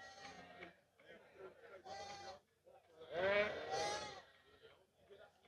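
At a livestock fair in Cachoeirinha, Pernambuco, sheep and goats let out several nearby bleats, the loudest a long wavering call in the middle, amid market background noise.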